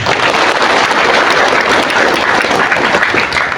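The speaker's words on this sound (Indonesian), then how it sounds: "Tepuk tangan." An audience at an organizational gathering bursts into loud, sustained applause, dense clapping from many hands filling the room evenly from start to finish.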